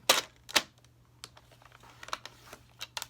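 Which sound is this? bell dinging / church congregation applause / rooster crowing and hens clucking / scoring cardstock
scoring cardstock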